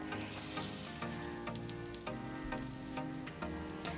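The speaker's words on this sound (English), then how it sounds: "Coat the flour-coated pollock with egg water. An important point is the intensity of the fire. Fry slowly over medium-low heat." An egg-coated pollock pancake frying slowly over medium-low heat in a pan, a steady close sizzle and crackle running continuously without talk.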